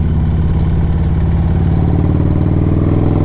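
A 2007 Harley-Davidson Road Glide with a Screaming Eagle 113 engine riding at low speed, its loud, close, deep throbbing rumble holding a steady rhythm throughout, with no voices over it.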